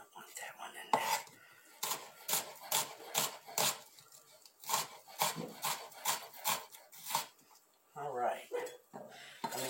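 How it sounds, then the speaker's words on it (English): Sliced Eckrich smoked grilling sausages are stirred together in a bowl, producing a steady run of quick clinks and scrapes with brief pauses and low murmured voices underneath. "Mix it all in there together."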